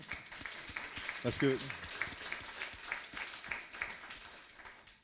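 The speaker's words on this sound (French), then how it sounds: "Et je pense qu'on peut les applaudir" Audience applause at the closing session of a regional French distance-learning community conference, a steady mass of clapping that runs the whole clip beneath someone speaking French into a microphone.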